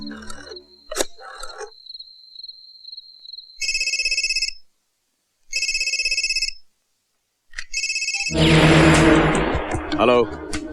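A telephone rings in repeated bursts, loud and clean with silent gaps between, leading into a louder burst of noise; a voice and other sounds come before the rings.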